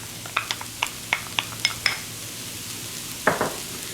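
Five chopped garlic cloves stirred into a cooking roux for crawfish étouffée, a run of quick scraping clinks from a spoon against the pot at an even pace, then a short pause and one more burst of stirring.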